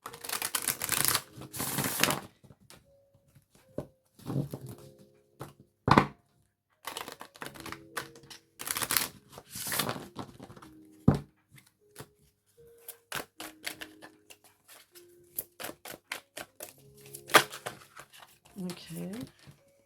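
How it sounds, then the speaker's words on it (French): Tarot cards are shuffled in short papery riffling bursts between pauses, close by, with intermittent talking around them. "J'arrive même pas à mélanger mes jeux."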